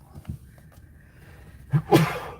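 A single sharp sneeze bursts out near the end, loud and close, after a stretch of quiet background rustling.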